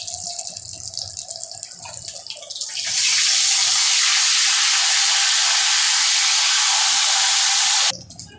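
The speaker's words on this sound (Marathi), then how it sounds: "अद्रक लसूणची पेस्ट टाकून आपण चांगलं परतून घेतलेलं आहे." Ginger garlic paste frying loudly in a pan for a fish curry, a strong broadband sizzle that jumps up in intensity about three seconds in and holds steady before cutting off near the end.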